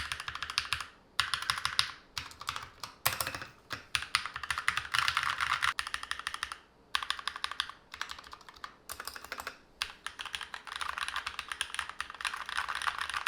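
Mechanical keyboard typed on over a felt desk mat, producing steady close-up clacking keystroke runs with brief pauses between bursts, no voices.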